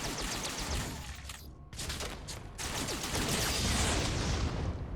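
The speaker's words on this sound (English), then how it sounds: "Even though I was extremely close to that explosion." An explosion in the space combat video game Nightstar: Rogue Wings, a loud crackling burst of blasts and debris that briefly cuts out, then swells back into a sustained roaring rush of fire.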